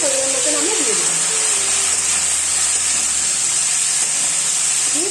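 Vegetables with turmeric and salt frying in a pan, a steady broad hiss of sizzling that holds evenly throughout, with faint background tones beneath.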